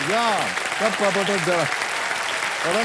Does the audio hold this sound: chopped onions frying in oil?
no